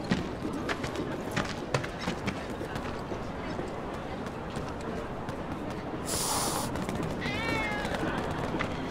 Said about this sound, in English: I'm trying to get a cat to come out.